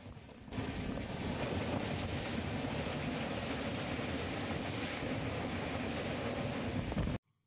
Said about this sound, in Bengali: যখন ট্রেন ছুটে চলল তার দুর্দান্ত গতিতে